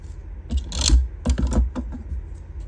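Scissors snipping through paper scraps while making paper doll ephemera, a few quick close cuts in short bursts with quiet pauses between.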